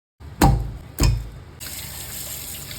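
Tap water runs into a sink as beef tripe is washed for kare-kare, with two sharp splashy bursts followed by a steady, close stream of running water.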